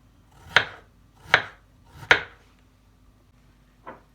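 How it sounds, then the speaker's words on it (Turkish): Three crisp knife strikes cut through potato onto a cutting board at an even pace, then a fainter fourth cut after a pause. "Şöyle ince ince patateslerimizi doğruyoruz."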